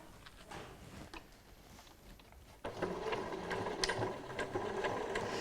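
A sewing machine stitches close to a piping cord, a soft rapid stitching hum that grows louder and steadier midway through.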